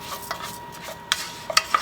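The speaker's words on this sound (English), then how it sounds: "Now I'm just going to add in 1 cup of rice." Rice stirred in melted butter to brown, soft scraping strokes with a few light clicks of a utensil against the pan, faint and close.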